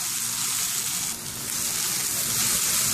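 Banana pieces sauté in a frying pan for kaaypola, a steady, soft sizzle with faint stirring scrapes, close up and without any talk.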